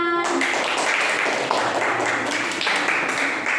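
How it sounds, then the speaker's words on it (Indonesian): Classroom applause as students clap together after a group presentation on blood and platelets, a dense, steady patter of many hands filling the room from start to finish. "Oke, tepuk tangan."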